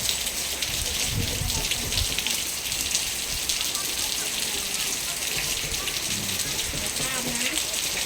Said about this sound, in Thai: ฝนตกแดดออก